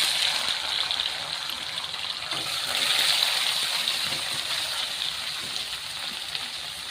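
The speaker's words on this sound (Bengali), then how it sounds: "তেলটা গরম হয়ে গেছে, আমি পনিরগুলো ছেড়ে দিচ্ছি" Pieces of paneer fry in hot oil, producing a steady, bright sizzle and crackle that continues evenly at moderate volume with no talk.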